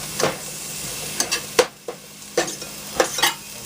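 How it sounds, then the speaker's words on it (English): Onions and green peppers sizzle in a pan for a homemade red sauce with meat, a steady frying hiss broken by several sharp scrapes and stirs of a utensil against the pan, close and moderately loud with no talking. "Now we're going to take those onions and green peppers. Kind of start to caramelize them a little bit."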